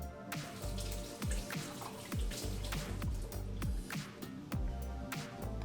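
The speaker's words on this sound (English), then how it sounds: "we're gonna start by washing our cucumbers" Water trickles and drips from a tap while cucumbers are rinsed under it, with irregular splashes and patters close by.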